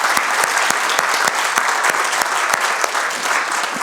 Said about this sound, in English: let us give a huge round of applause to every one of you